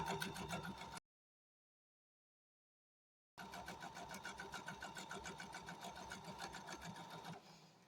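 A sewing machine runs a quarter-inch seam through a windmill quilt block, a steady rapid mechanical stitching hum that cuts out for a couple of seconds and then resumes until it stops near the end.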